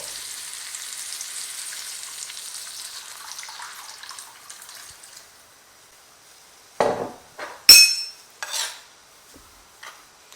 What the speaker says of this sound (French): je vais le verser dans le tagine. Je vais rajouter par-dessus du bouillon d'agneau